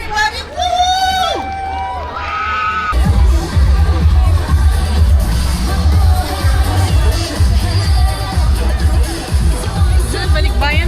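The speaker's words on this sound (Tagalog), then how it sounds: "Palakpakan. O sigawan." Festival crowd at a Barrio Fiesta in Leeds, a loud, dense wash of clapping, cheering and whoops that bursts in after a few seconds of singing and carries on steadily, with people talking and shouting through it.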